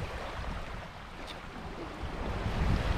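Ocean waves washing onto a beach at Winderabandi Point at sunrise, a soft continuous surf wash with some wind, quiet and fairly distant, no talking.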